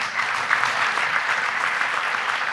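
Applause for former minister and philosopher Luc Ferry as he joins a round-table at a fleet and automotive mobility gala, a dense, steady wash of audience clapping that fills the whole stretch at even strength.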